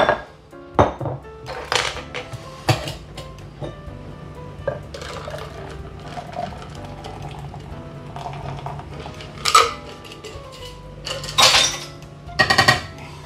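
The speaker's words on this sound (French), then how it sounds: "on filtre les glaçons et on fait un reverse dry shake, c'est-à-dire qu'on va shaker sans les glaçons" A cocktail shaker is strained of ice, then dry-shaken without ice while making a bourbon sour, giving scattered clinks, pours and sharp bursts of rattling, with louder shaking bursts near the end.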